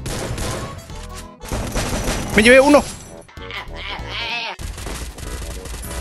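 Bursts of gunfire from the Free Fire video game rattle under excited, shouted talk, mixed with game music and effects in a dense, chaotic stretch.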